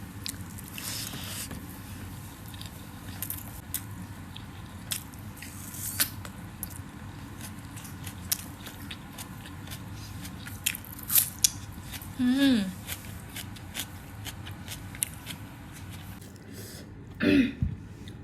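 Close, wet chewing of a mouthful of beef cooked with whole garlic and chillies, with soft crunches and smacks over a low background and a few throat sounds, no speech.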